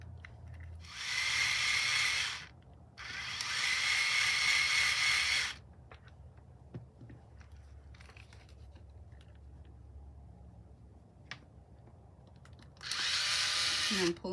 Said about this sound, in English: And then I'm going to drill for real now.